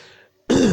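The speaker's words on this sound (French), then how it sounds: "Pardon, je tousse" A single loud, close throat-clearing cough bursts out abruptly after a brief moment of near silence, harsh and rasping.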